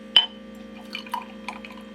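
Matcha drink is poured into a glass, with a sharp initial splash followed by a few light trickles and drips against a low steady background hum.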